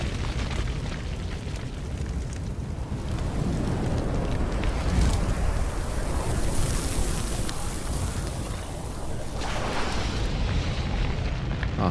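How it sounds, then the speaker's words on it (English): Fire roaring and crackling as something is set alight in Wuchang: Fallen Feathers, a dense, steady rush of flame with rumbling low end that swells midway and stays loud throughout, no talk. "we're just lighting this on fire."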